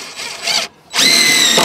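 A power drill drives a screw into a heavy-duty wooden gate for a loading chute. Two loud, close whining bursts are separated by a brief pause, and the second burst runs steady and strong to the end.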